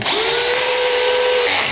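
A DeWalt DCD805 cordless hammer drill drives a screw in one loud, close, high-pitched whine that holds steady for about a second and a half, then cuts off abruptly as the motor stops.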